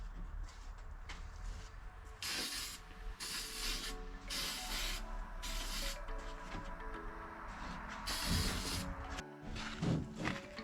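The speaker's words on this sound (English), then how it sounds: "just gonna spray the very edge where it's bare metal, just stop rust if it ever happens." Spray can hissing in repeated short bursts onto the bare metal edge of a campervan window opening, close up, with intermittent rubbing and handling noises between sprays.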